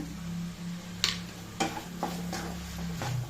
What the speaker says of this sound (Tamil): இதையும் போட்டு நல்லா வதக்கி விடுங்க.